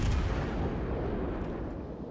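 Heavy, rumbling booms from the cruiser Napoli's guns in a naval battle game, a dense, loud barrage that fills the moment with low thunder and no voices.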